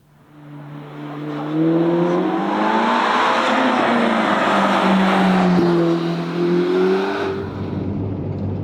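A 2021 Ferrari Roma's front-mid-mounted twin-turbo V8 runs loud and steady, its pitch rising and falling as it revs, settling into a low rumble near the end.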